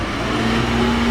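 A JCB 512-56 12,000 lb diesel forklift running in gear, a steady loud engine drone with a rising tonal hum, close and continuous.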